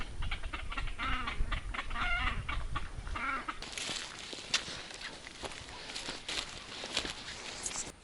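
Faint, distant quacking and squawking as ducks squabble on a reservoir inlet, followed by scattered splashing and clattering noises.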